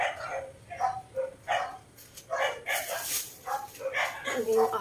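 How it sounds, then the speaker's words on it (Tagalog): Dog barking at an outdoor market, several short yips and barks scattered at irregular intervals among people talking nearby and general market bustle. "ano yung aso?"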